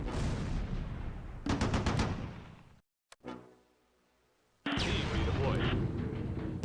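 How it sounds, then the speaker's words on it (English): Tank guns firing in the Close Combat war game, set in Operation Market Garden with a Panther and a Sherman, heard as heavy booming blasts that roll through the clip, broken by a short silence and a single sharp crack. "The Panther gets a flanking shot and destroys Western's Achilles"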